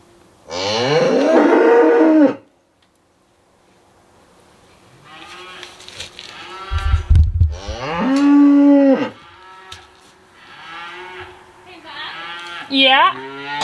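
Cattle low in a series of drawn-out moos, with calves and a young beef heifer calling in turn. Several loud, close bellows are separated by short pauses, ending with a higher, bleating call.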